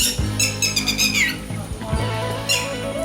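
Lapwings give a few sharp, wheezy, high-pitched calls close by, separated by short pauses over a quiet outdoor background.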